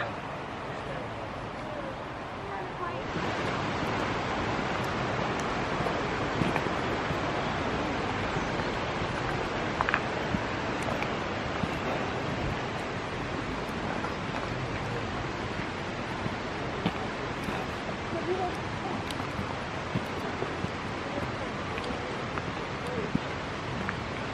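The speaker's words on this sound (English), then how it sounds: "This is coming up to the waterfalls now." Torc Waterfall on the Ring of Kerry, Ireland, a steady broadband rush of falling water that stays constant and fairly loud after a quieter start, with occasional faint footsteps and voices.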